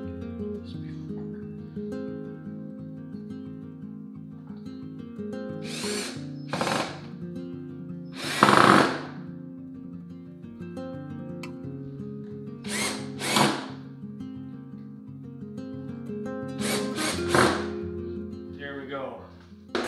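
A power drill whirs in several short, loud bursts, driving screws to mount reverse osmosis system parts for a small hobby maple syrup setup, with a steady hum between bursts and someone talking at times.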